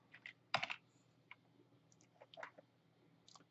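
Light typing on a computer keyboard, a few scattered soft clicks and taps in short bursts, close and quiet with no talking.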